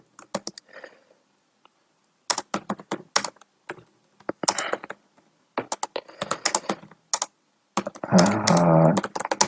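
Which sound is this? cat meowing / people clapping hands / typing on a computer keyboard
typing on a computer keyboard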